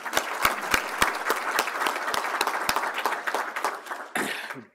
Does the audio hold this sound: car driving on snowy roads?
no